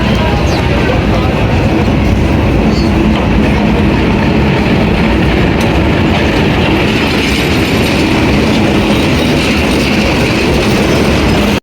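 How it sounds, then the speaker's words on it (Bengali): A passenger train on the Rangpur to Kurigram line pulls into a station, its loud, steady rumble and rail clatter filling the clip throughout, close by and continuous. "ট্রেন কাছাকাছি চলে আসছে।"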